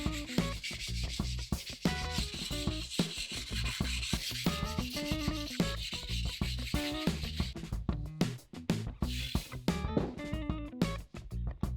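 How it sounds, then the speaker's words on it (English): A 320-grit sanding block rubs against guitar fret ends in steady, close back-and-forth strokes, producing a continuous scratchy rasp with no talking. "I have this block here with 320 grit. I'll work on the side finish."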